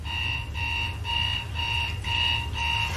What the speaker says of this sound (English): we hid the alarm clocks all over her bedroom